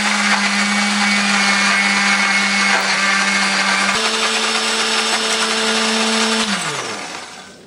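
Electric kitchen blender grinding a spice paste of shallot, garlic, ginger, coriander and turmeric with a little water, a loud steady motor whine that shifts pitch midway, then winds down as it is switched off near the end.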